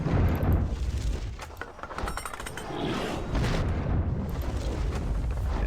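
Siege weapons in a strategy video game pound a castle wall, a continuous rumbling barrage of heavy booms and crashing impacts layered with debris and battle noise, loud and sustained throughout.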